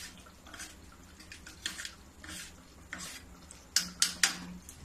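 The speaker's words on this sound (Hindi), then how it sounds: "अब चम्मच से मैं अच्छे से मिला दूंगी।" A spoon stirs Kashmiri red chili powder into hot ghee tadka in a pan, with soft scraping and a few sharp metallic clinks of spoon against the vessel near the end.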